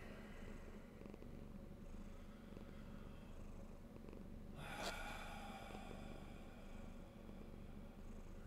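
A cat purring softly and steadily in a quiet room, a low continuous rumble with one brief louder breathy snort partway through.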